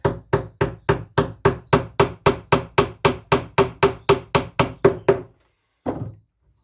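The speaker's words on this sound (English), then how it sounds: "You watch, I'll put the hammer through it now." A hammer knocks together a wooden beehive frame: about fifteen sharp, evenly spaced blows in quick succession, close and loud, then a pause and one final strike.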